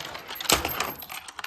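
A staff-room door key is picked up and handled, giving a quick metallic jingle and clink up close, brief and fairly quiet.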